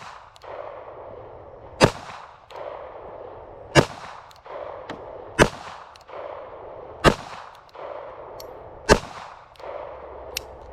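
Handgun shots fired one at a time at a target about 7 yards away on a range, six sharp loud cracks spaced roughly two seconds apart with no talking.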